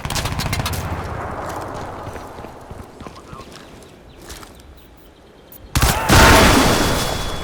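Machine gun fire in the video game Crysis 2: rapid, loud bursts of automatic shots at the start that thin into scattered reports, then a sudden heavy burst near the end.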